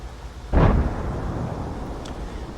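A single heavy cannon shot from an M56 Scorpion tank in a video game, a sudden loud boom with a rumbling tail that lingers over background noise, alone without talk.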